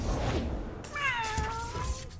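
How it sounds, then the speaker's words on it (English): A cat gives a single drawn-out, rising-then-falling meow up close, over steady background noise and a low hum. "Hey, if it isn't that cat I rescued this morning."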